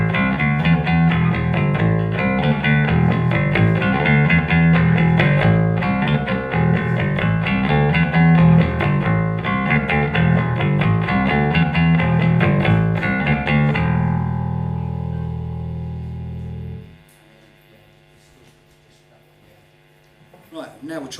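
Bass guitar run through a preamp/DI pedal with added highs, playing a dense, steady riff for about fourteen seconds before a final held note rings out and fades into near silence.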